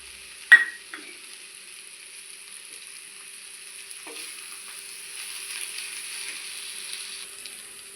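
Snake gourd poriyal with grated coconut being stirred in a pan, a sharp scrape of the spatula near the start and another soft knock later over a steady, quiet sizzle that fills the rest.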